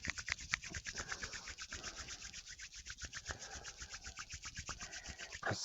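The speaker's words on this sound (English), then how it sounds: "Let's bring our palms together and rub them." A pair of palms rubs briskly together in a steady back-and-forth rhythm, a close, soft rasping swish repeating many times without talk.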